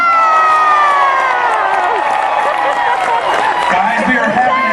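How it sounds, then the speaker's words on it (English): A large convention crowd at Megaplex 2021 cheers and shouts together, a loud sustained roar of many voices with whoops throughout, close and continuous for the whole stretch. "can we have one last cheer for Megaplex 2021?"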